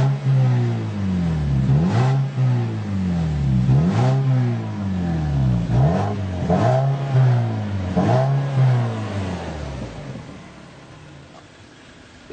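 A 2014 Mazda3 with a 2.0-liter Skyactiv engine and six-speed manual revs up and accelerates repeatedly, about five rising sweeps that each drop back, loud and close inside the car, before easing off near the end.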